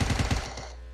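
Rapid burst of automatic gunfire in PUBG Mobile's zombie mode, about five quick shots in a tight rhythm followed by a fading tail, loud and alone.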